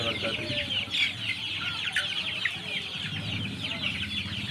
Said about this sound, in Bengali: এটা আপনারা যেটা দেখতে পাচ্ছেন এটা সোনালি মুরগি